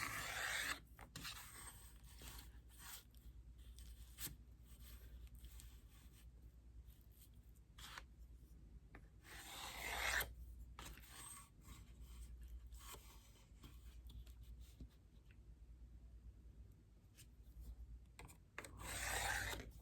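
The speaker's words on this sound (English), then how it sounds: "just go ahead and just draw all of these lines again, but it will be on the tracing paper" A pencil draws lines across tracing paper laid over a grid while icon writing, giving soft, close scratchy strokes in short bursts separated by brief pauses, faint and without talk.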